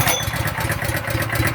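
A house fire pump engine runs after being pull-started, with a loud, steady, rough mechanical chugging and broadband rattle filling the whole stretch, heard close up.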